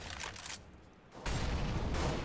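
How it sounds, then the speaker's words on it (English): Automatic gunfire in a first-person shooter video game as a player frags an opponent with the Cyber Wreck, dense rattling bursts that thin briefly, then return as a loud, sustained volley. "Ken is going to open things up, getting the frag with the Cyber Wreck."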